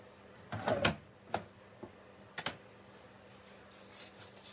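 Die cutting machine running card stock through in a few short passes: a cluster of mechanical clunks and rolling crunches near the start, then scattered softer clicks and knocks, close and fairly quiet in a still room.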